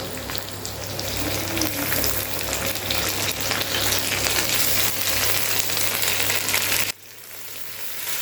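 Ginger-garlic paste and coriander-cumin paste fry in hot oil in a pan, a loud, steady sizzle with stirring that cuts off abruptly near the end.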